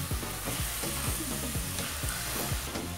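Ground beef frying in a pan, giving off a steady bright sizzle, with repeated scraping strokes of a utensil stirring the meat at a regular rhythm, close and continuous, with no talking.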